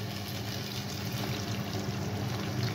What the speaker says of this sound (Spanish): Ahora le añadimos el agua